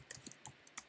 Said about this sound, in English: Oh my goodness, typing.